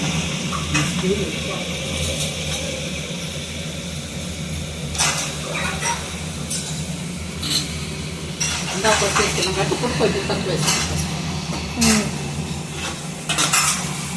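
Raw prawns being mixed with salt and turmeric in a bowl for a Guntur-style prawn fry: repeated close clinks and scrapes of a utensil against the bowl in irregular bursts over a steady hiss, with some talk.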